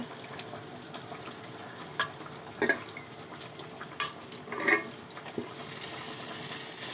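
Mixed sea fish cooking in a coconut and onion curry makes a continuous soft sizzling bubble, with a few light utensil taps against the pot.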